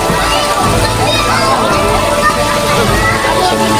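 Spring water overflowing into a swimming pool, heard as a loud, continuous rushing and sloshing close by, with voices and background babble mixed in.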